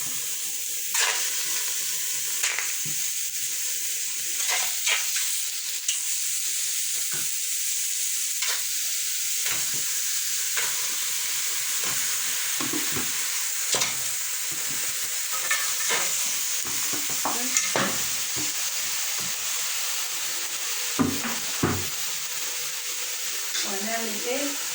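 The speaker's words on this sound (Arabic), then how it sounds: "انا بحب اشوح اللحمه او الفراخ او البط." Red meat sautés in a pot on the stove, giving a continuous sizzle and hiss broken by repeated scraping and clanking stirs of a utensil against the pot, with someone talking over it at times.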